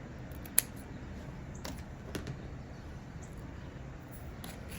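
Scissors snip through a paper embellishment in a quiet room, giving a few faint, separate clicks, the first one sharp and close, then softer ones spaced about half a second apart.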